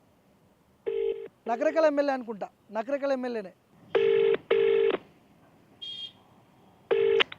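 Phone call placed by keypad: a few dialing beeps, then repeated ringback tones that go unanswered, with someone talking between the rings.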